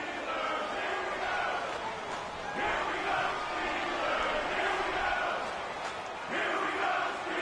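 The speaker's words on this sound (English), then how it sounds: "the crowd getting into it as we come up on a big 3rd down" Stadium crowd roaring at an American football game as a big third-and-goal play approaches, a dense continuous wall of cheering and shouting that swells in waves and stays loud throughout.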